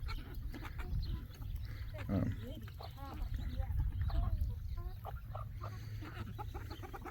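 Roosters, including big white ones, crow and cluck among other chickens on a ranch during morning chores, a steady close barnyard din with overlapping calls.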